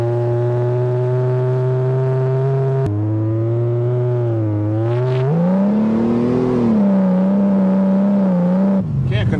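A 1982 Toyota Cressida driving on a wet road in the rain, its engine droning loud and close with a steady hum that shifts pitch as it revs and eases off across several gear changes.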